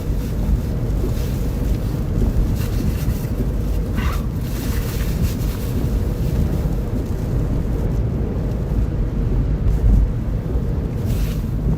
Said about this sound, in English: A bit more wind down here, might just be a little bit more exposed to the south.